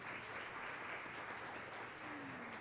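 Audience applause at a Spanish-language talk on artificial intelligence, a soft continuous wash of clapping heard from a distance for a couple of seconds.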